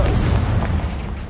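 A Confringo blasting spell from Hogwarts Legacy on PS4 detonates in a deep, rumbling boom that rolls on and slowly fades across the whole moment, with no voices.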